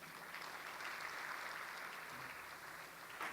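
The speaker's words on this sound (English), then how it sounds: "Ladies and gentlemen, a round of applause for the team." Faint, distant audience applause at the NSTF-South32 science awards ceremony, an even wash of clapping throughout that ends with a louder close clap or two.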